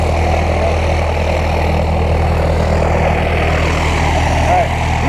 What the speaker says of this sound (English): That small blue plane that we saw earlier with the propeller on the backside, that just took off.